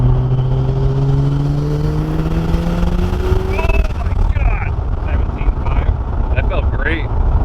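A Mazda RX-7 FD with an upgraded turbo pulls hard from inside the car, its engine note rising steadily before a shift, loud over wind and road roar while people talk.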